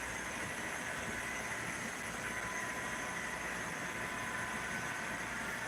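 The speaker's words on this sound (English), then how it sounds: "Where's that train at? There it is." Model railroad train running on a club layout in Fostoria, Ohio, heard as a steady, continuous rumble with a hissing, broadband wash throughout, no voices present.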